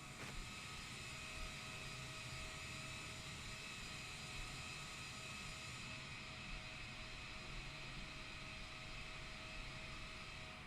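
Jet engines of a Boeing 787-10 Dreamliner hum steadily on the taxiway, a constant broadband roar with faint tonal whine and no talking.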